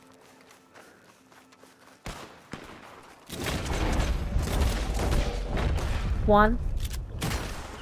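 Pistol shots in Red Dead Redemption 2 crack out in a few sharp bursts amid loud game noise and movement, with a voice briefly speaking over the action.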